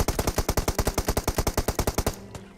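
Automatic weapon fire in PUBG Mobile, a single long burst of about twenty rapid, evenly spaced, loud shots, ending abruptly and trailing into quieter game sounds.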